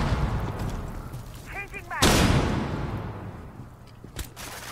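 A single sharp gunshot from a weapon in the shooter video game Rainbow Six Siege, a loud crack with a decaying tail, following a brief burst of game noise and faint background voices, with a smaller shot near the end.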